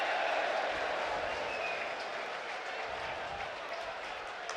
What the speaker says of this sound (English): So a cheer from the home supporters